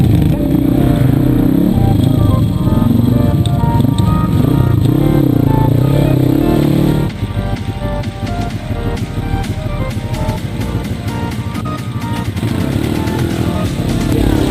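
A motocross motorcycle engine at a junior dirt-bike meet revs loud and close, held at high throttle and then blipping in rapid bursts, with a person shouting encouragement over the engine noise.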